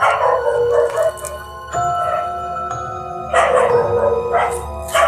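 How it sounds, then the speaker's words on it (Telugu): Dogs at night near an old ruined royal fort in a village let out long, rising and falling howls in several overlapping bursts, loud and fairly close, with short pauses between waves of howling. "కుక్కలు చూడండి ఎట్లా అరుస్తున్నాయో,"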